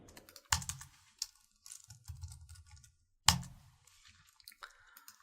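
Keys on a computer keyboard clack as code is typed, coming in short clusters of quick taps with gaps between them and two sharper, louder strikes, close and fairly quiet.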